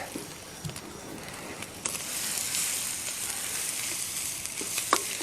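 Grated coconut and green chilies fry in hot oil in a pan, a steady crackling sizzle with occasional stirring clatters and small pops, close and moderately loud.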